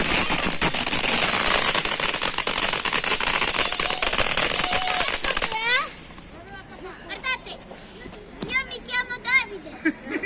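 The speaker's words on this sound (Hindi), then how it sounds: "ये ऊपर पहाड़ पे रंग बिरंगे पटाखे चल रहे हैं" New Year firecrackers and fireworks on a hillside in Italy: a dense, continuous barrage of crackling bursts for several seconds, then it stops and children's voices and other voices take over.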